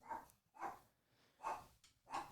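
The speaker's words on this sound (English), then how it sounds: "I apologize for the dogs." A dog barks four times in a steady, spaced rhythm, faint and somewhat distant, each bark short and sharp with a brief breathy gap between.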